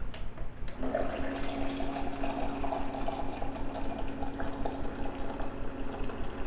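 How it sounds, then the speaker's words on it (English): Hot water pours into a cup of echinacea herbal mix, a continuous splashing, bubbling trickle that starts after a brief pause and runs steadily nearby. "Then you just add your hot water."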